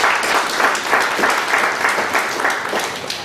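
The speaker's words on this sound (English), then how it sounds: "A round of applause for that" Conference audience applauding a speaker after a session on Companies Act and CARO updates, a steady wash of many hands clapping, moderately loud with a slightly pulsing rhythm.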